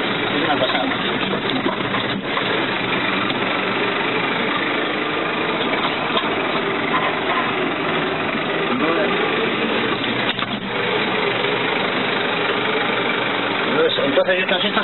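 Tractor engine running on a farm estate, a loud continuous rumbling drone that holds steady for the whole stretch, with people talking over it.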